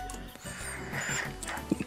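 A dog bark effect from the video game Undertale sounds a few short times over a busy mix of game audio, fairly close and moderately loud.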